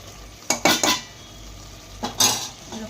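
Chicken pulao being stirred in a pot, with a few scraping, clattering strokes of a spoon against metal in two short bursts over a faint background sizzle.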